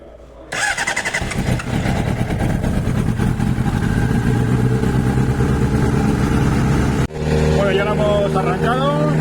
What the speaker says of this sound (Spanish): La moto está ahora en las revoluciones, está totalmente fría, porque claro, se acaba de arrancar el frío.